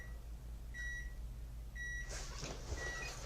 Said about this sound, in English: I heard the microwave.